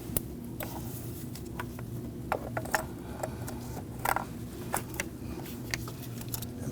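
Pliers working a connector loose on a 2013-2019 Ford Police Interceptor Utility engine, with a series of small close clicks and snaps over a steady low hum, no talking.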